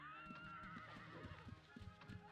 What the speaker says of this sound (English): Ow, I walked into a horse.